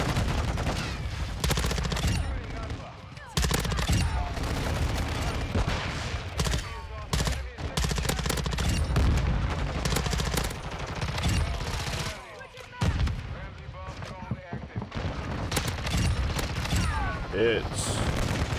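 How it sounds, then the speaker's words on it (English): Rapid automatic gunfire in the video game Modern Warfare 2, with repeated dense bursts of shots through much of the clip and brief gaps between volleys. "Teammate shooting at me."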